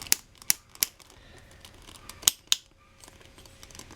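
Ratcheting leg joint of a Play Arts Kai Armored Batman action figure, a quick series of sharp plastic clicks, three close together and then two more after a pause, close and fairly quiet.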